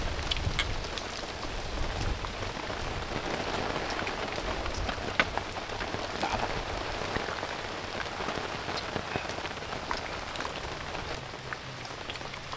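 Steady rain falls during a fishing trip by a village canal, a dense continuous patter of drops striking surfaces throughout, close and even with no voices.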